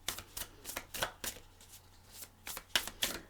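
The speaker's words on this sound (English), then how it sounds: "So we are now going to bring in the Light Seers tarot," Light Seers tarot cards riffled and handled close by, a quick sequence of soft papery slaps and flutters in uneven bursts, heard alone.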